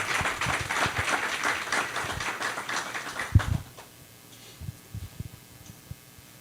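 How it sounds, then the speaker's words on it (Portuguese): Audience applause at a seminar on buying property in the USA: a dense burst of clapping for about three and a half seconds that cuts off abruptly, followed by a few scattered, isolated claps and quiet room noise. "uma salva de palmas para ele"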